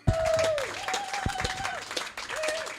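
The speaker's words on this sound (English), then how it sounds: "That's real applause, Glenn." A scattered smattering of audience applause, modest and somewhat distant, runs steadily under a sustained musical tone and background noise.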